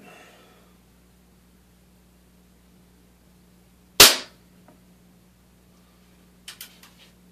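A single sharp air gun shot firing a Daisy .22 wadcutter pellet, a loud crack with a quick decay in an otherwise quiet setting, followed by a few faint clicks and rustles.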